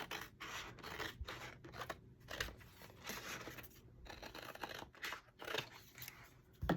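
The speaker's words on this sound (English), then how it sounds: "Now we're going to cut these edges off." Scissors trim the edges off a paper card for artist trading cards, making a quiet, rapid series of crisp snips and rustles close up, with no talking.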